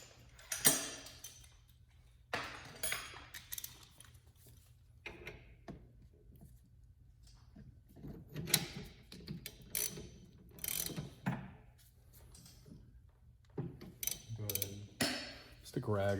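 Bushing tool pushing a suspension bushing out on a 2019 Dodge Challenger R/T, giving intermittent mechanical clicks and ratcheting bursts separated by quiet gaps, with someone talking at times.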